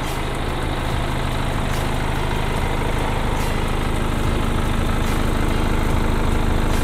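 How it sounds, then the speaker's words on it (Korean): A used BMW 520d M Sport diesel sedan idles steadily with its hood open, giving a loud, close, continuous rumble with an even clatter and no change in pitch, with no voices over it. "엔진 소리도 일정하네요"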